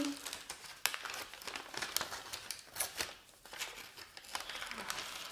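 Scissors snipping a paper number out of a paper plate in a classroom craft, giving a run of close, dry crinkling cuts and rustles in a quiet room.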